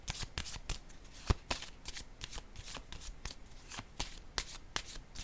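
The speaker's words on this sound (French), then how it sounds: "Attendez, je vais déposer une carte pour ici." Tarot cards shuffled and laid down in a steady run of crisp riffling slaps and soft taps, close and fairly quiet, with no voices.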